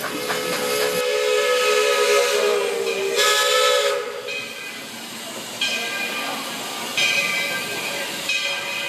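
A train's steam whistle sounds in several loud, sustained blasts over a steady background hiss of steam, with short gaps between the blasts.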